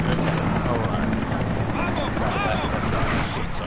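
Helicopter in the video game Far Cry 6, a loud steady rotor thrum with engine whine filling the whole clip, while a voice talks over it.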